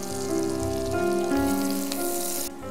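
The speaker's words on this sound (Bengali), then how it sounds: "রসুনকে আমি একটু হালকা বাদামি করে ভেজে নিচ্ছি।" Garlic fries in a pan until lightly browned, giving a continuous close sizzle and crackle that stays fairly loud and even, with a faint steady hum beneath, before it cuts off near the end.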